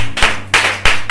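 A church congregation claps in acclamation, three loud, sharp, closely spaced claps ringing in a reverberant hall.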